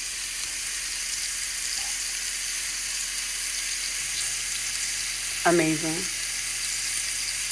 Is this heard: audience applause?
no